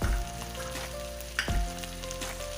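Chicken charsi karahi frying in a pan, with a steady loud sizzle throughout and a brief stirring clatter partway through, heard close and alone.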